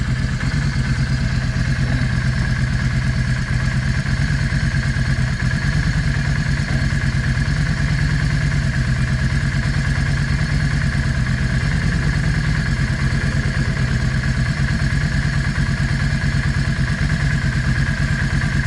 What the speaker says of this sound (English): Here's how the engine's picking up in RPMs.